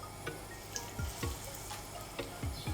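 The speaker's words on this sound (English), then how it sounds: "A nice sizzle is what we want." Plantain fries in plenty of oil in a non-stick frying pan, giving a close, steady sizzle broken by small pops and bubbling spits.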